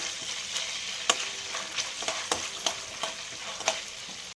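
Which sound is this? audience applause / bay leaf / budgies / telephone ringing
bay leaf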